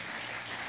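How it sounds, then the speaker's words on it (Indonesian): A church congregation at a Sunday service breaks into dense, continuous applause, a short burst of many hands clapping together at close range. "Tepuk tangan dulu dong buat Tuhan."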